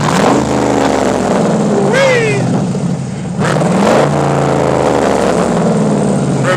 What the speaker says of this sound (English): Oh, you gotta rev it up for the game.